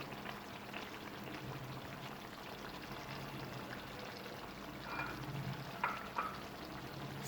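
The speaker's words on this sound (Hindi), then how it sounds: "अब हम इसको 5 से 7 मिनट के लिए भून लेंगे" Chicken handi masala fries in a pan with a soft, steady sizzle and crackle, quiet and close, with a couple of slightly louder bursts toward the end.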